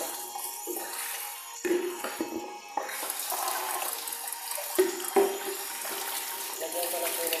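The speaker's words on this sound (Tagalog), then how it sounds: "Lagyan ko na po yung tubig ko." Tap water runs into a kitchen sink while dishes are washed by hand, a steady close splashing flow with brief louder bursts and clatter, under some quiet talking.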